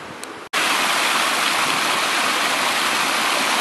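Waterfall below a large beaver dam near Trinidad, Colorado, a steady close roar of falling water that bursts in loudly after a brief quieter moment and then holds constant.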